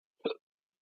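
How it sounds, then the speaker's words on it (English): A single short, soft hiccup from a person, isolated against silence and close to the listener. "And I have the hiccups."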